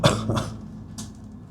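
A person with a long-lasting cough gives a few close coughs near the start, followed by a couple of fainter coughs, with a low steady hum in the background.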